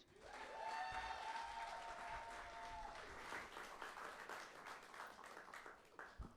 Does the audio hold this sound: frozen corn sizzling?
no